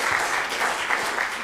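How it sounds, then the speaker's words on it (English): A conference audience gives a generous round of applause after a talk on constitutionalism and the rule of law, a steady wash of clapping that stays even and fairly loud throughout the short burst. "please join me in giving Martin a generous round of applause"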